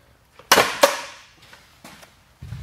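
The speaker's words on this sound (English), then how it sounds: "So you hear the two pops in the front and you hear the one on the back." A King of the Hill leg-push sled machine pops sharply twice in quick succession as it is driven forward, followed by fainter knocks and a softer pop from the back.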